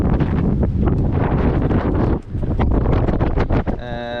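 A strong wind of about 20 knots roars across the microphone while sailing out from Cadiz, loud and continuous with gusting surges and a brief lull midway.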